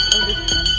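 A small bell at a restaurant dining table rings with a few bright, sustained metallic tones, struck more than once, close and fairly loud over faint room background.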